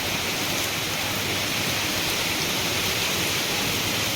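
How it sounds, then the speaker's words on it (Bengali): Heavy rain pours down during a storm in West Bengal, a dense, even roar of water hitting surfaces that stays constant and loud throughout with no voices. "দেখতেই পাচ্ছ প্রচুর জোর বৃষ্টি পড়ছে"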